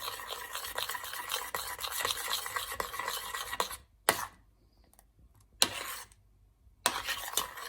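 Rapid scraping and stirring of a mango mixture for ice cream runs continuously, then drops to silence and returns in two short bursts.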